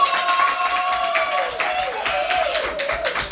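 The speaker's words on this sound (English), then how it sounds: "So let's give her a round of applause." Clapping from a business opportunity meeting audience greets a newly promoted manager, a moderate patter running beneath a speaking voice throughout.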